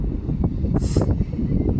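Steady wind rumbles and buffets against the microphone at the seaside, a loud, continuous low roar with gusty fluctuations.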